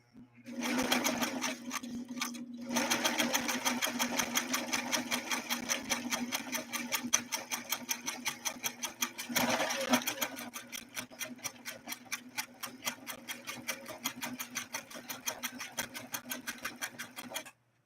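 A Singer Stylist sewing machine runs a straight stitch on satin, a rapid, even mechanical clatter of needle strokes that pauses briefly twice and then slows into distinct ticking stitches near the end.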